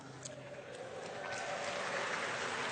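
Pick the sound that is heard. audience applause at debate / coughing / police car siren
audience applause at debate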